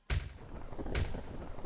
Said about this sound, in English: And then we get the fireworks, we get the cutscene